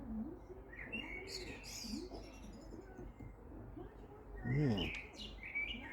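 Several birds chirp and coo outdoors, with repeated soft dove-like coos under brighter high tweets and one louder close burst of song; a person briefly says a word.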